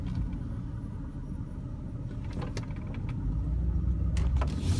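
A 2000 BMW 328i sedan with 33,000 miles cruises down the road, heard from inside the cabin as a smooth, steady low rumble with a few faint clicks and a slight swell near the end.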